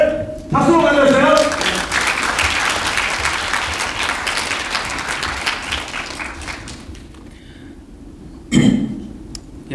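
An audience claps to welcome a student speaker onstage, a loud burst of dense clapping that swells quickly and then gradually thins out, ending with a short sharp clap and a nearby throat-clear or cough.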